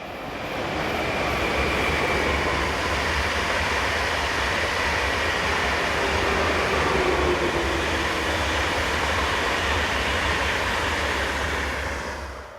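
Passenger train on the Vienna Airport to Innsbruck and Zurich service, hauled by two Austrian 1116-class electric locomotives, roaring past at close range in a loud, continuous rush of wheel and wind noise.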